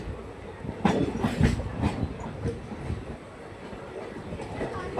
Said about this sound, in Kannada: KSR ಬೆಂಗಳೂರಿಂದ Vijayapura express, Yeshwanthpur Vijayapura express, Bijapur ಹೋಗೋಂಥ train ಇದು.